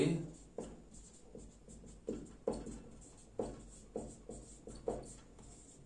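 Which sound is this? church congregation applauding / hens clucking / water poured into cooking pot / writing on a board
writing on a board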